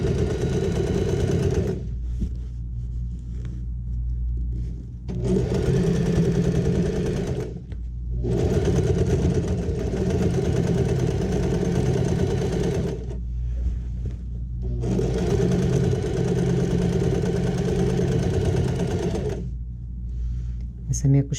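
Sewing machine stitching a fixing seam along the lining of a fabric zip pouch, running in steady bursts of several seconds separated by short pauses, close and fairly loud.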